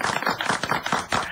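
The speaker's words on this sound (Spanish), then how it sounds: "¿Le gusta? Aplauso, por favor." An audience claps in a burst of applause, rhythmic hand claps pulsing steadily for a moment, fairly close and lively.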